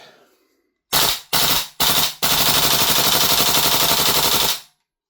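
A Tokyo Marui AKM airsoft rifle fitted with a SAG Bowmaster 130% recoil spring fires three short bursts and then one long sustained burst, a loud close rapid mechanical clatter that cuts off abruptly into silence.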